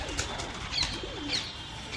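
Domestic flying pigeons coo softly in a flock settling at a home loft, with a few faint higher chirps over a steady outdoor background.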